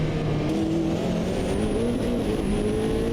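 A Nissan R89C race car at Brands Hatch in a racing game, engine droning steadily and loudly from the cockpit with pitch rising through the gears, no talking.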